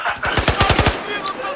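Rapid burst of light machine gun fire in Battlefield 4, about eight sharp shots in quick succession, loud and close, followed by a short ringing tail.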